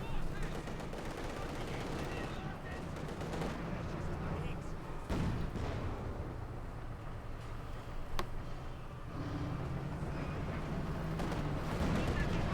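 Gunfire in the video game Company of Heroes 2 crackles in scattered bursts with a few sharper single cracks, layered over rumbling battle ambience and a voice talking throughout.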